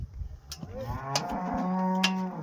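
A dairy cow on a farm gives one long, loud, close moo that swells and holds, with no talk.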